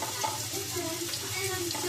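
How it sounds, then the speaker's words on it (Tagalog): Ginger sautéing in a pan at home, giving a steady, even sizzle with a faint watery hiss that holds throughout. "Ngayon natin igigisa yung luya"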